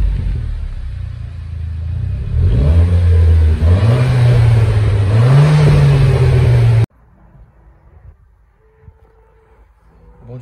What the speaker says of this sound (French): vous entendez un peu le moteur.